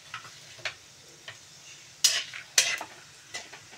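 Cumin seeds and chilies frying in oil in a pan, a faint soft sizzle broken by a few sharp utensil clicks and scrapes against the pan, quiet with no talking.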